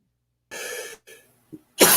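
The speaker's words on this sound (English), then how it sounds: "You're talking about cigarettes, so I start coughing." A person coughs close by during an indoor live chat: a harsh cough, a shorter second one, a faint throat sound, then a loud final cough burst.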